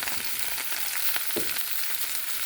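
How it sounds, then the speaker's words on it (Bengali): Chopped madhuman leaves frying in a pan with mustard paste and ginger, giving an even, loud sizzle throughout with a few soft stirring knocks and no talking. "এগুলো ওর উপরে দিয়ে ভালো করে ভেজে নেবো"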